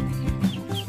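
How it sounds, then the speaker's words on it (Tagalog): A few short clucks from chickens nearby, quick and irregular, over a soft background murmur. "yan yung mga manok yung pinsan."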